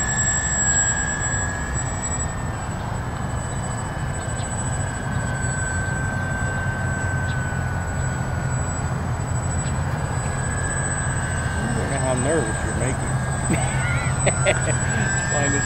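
A Canadair CL415 amphibious water bomber on its maiden flight makes a low pass, its turboprop engines a steady loud drone with a whining tone throughout.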